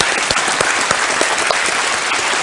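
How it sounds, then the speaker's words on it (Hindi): A studio audience on the quiz show Kaun Banega Crorepati applauds loudly to welcome the CID television team, a dense, sustained roar of clapping with sharper individual claps popping through. "बहुत बहुत तालियों के साथ इनका स्वागत किया जाए"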